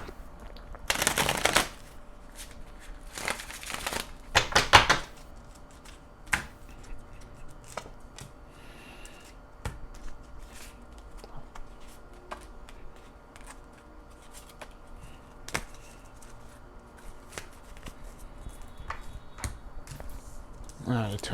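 Tarot cards are shuffled close up in a few crisp riffling bursts early on, followed by quieter card handling, soft taps and table sounds.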